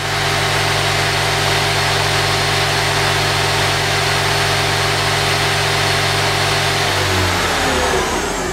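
Hyundai Kia SKT15 CNC turning center with its spindle spun up to high RPM, a loud steady whine with strong sustained tones that shifts slightly near the end, close and continuous.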